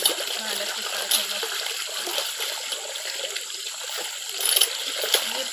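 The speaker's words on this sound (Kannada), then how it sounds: "ನೀರು ಚಾಲು ಇತ್ತಂದ್ರೆ" Tap water from a motor-fed home supply runs in a steady broadband hiss and splash, constant and fairly close throughout.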